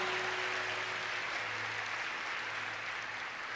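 A congregation at a large church congress applauds together in a steady, dense wash of clapping that holds even throughout, with a faint sustained hum beneath.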